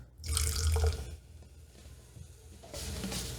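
Liquid poured into a homemade baking soda and vinegar battery, a wet splashing gush up close that tapers into quieter trickling and fizzing, then swells again near the end.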